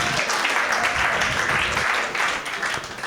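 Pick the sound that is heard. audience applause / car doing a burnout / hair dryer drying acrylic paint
audience applause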